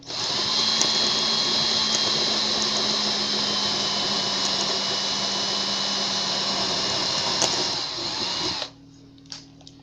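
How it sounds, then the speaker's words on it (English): A handheld drill runs a stepper bit through a homemade yarn spool disc, widening the hole to 1/2 inch: a loud, steady high-pitched whine for about eight and a half seconds, then it cuts off and spins down. "take it down to a 1/2 inch on this stepper bit I have"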